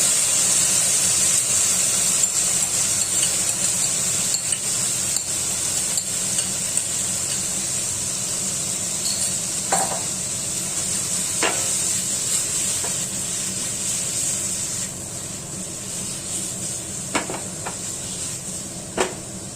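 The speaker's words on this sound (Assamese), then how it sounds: "এই ঘিউত পনীৰখিনি দি দিম। লো ফ্লেমত দিলো।" Paneer fries in ghee over a low flame with a steady, even hiss of sizzling that carries on throughout, broken only by a few faint clicks.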